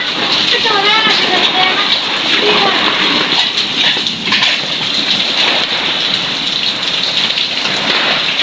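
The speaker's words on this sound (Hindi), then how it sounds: "कितने मोटे मोटे से ओले आके गिर रहे हैं" Hailstones and heavy rain pelt down in a loud, constant hiss and splatter; a voice speaks briefly over the downpour near the start.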